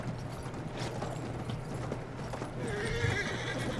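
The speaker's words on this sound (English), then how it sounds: "Alright, I'm on the horse." A horse in Battlefield 1 gallops with rapid clip-clop hoofbeats and a whinny amid game mechanical clatter, moderately loud and continuous.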